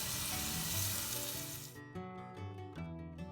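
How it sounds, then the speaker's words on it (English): Ground spice paste for prawns fries in coconut oil or ghee with a loud, dense sizzle that cuts off partway, leaving soft background music. "Saute well and add some curry leaves"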